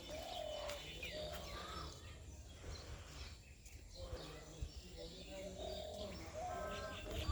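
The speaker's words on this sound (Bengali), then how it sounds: "কবুতর গাছ আছে, কবুতর আছে।" Pigeons perched in a tree above a shop coo and chirp intermittently through the clip, mixed with street ambience and background voices.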